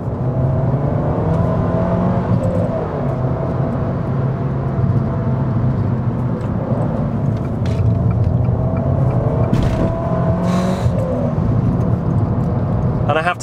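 An Abarth 595 Scorpioneoro engine drones steadily at 70 mph and around 3,000 RPM on a motorway, with road and wind roar, a constant low hum under someone talking.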